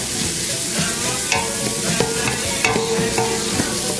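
Spices sizzling in a hot frying pot with scraping stirs, a steady fry crackle and a few sharp clinks from the utensil.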